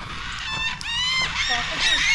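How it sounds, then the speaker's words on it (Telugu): Cockatoos along a long walking track in Western Australia give raucous, honking calls in quick overlapping bursts, fairly loud, with people talking underneath. "ఇవి కాకుల్లో కనిపించినవి కాకటూస్ అవి"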